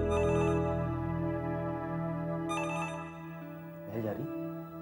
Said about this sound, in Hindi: ये देखो फिर घंटी जा रही, कोई नहीं उठा रहा।